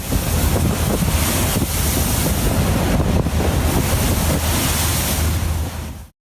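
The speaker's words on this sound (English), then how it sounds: "A large fishing boat in the North Atlantic faces turbulent waters, looking like a toy ship." Turbulent North Atlantic sea with heavy wind buffeting and crashing waves around a large fishing boat, a loud continuous roar of surf and wind noise with no voices.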